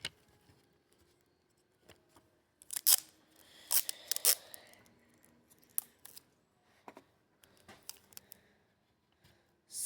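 Scissors snip through a roll of tape in several close, sharp cuts, with rustling and handling sounds between them, as strips are prepared for a car window.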